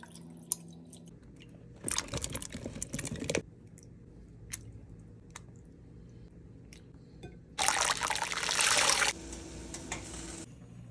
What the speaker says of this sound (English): Give that a blend, pour it over your favorite coffee